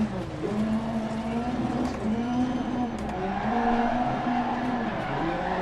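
A rallycross car in DiRT Rally 2.0 accelerates hard, its engine droning loudly and steadily with a rising, wavering pitch and some tyre noise, heard alone throughout.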